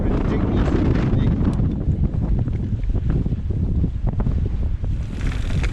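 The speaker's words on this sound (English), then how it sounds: "Oh my god, it's ridiculously windy." Strong wind buffets the microphone on an open moor during mountain biking in County Durham, in a continuous roaring rumble, loud and gusting throughout the clip.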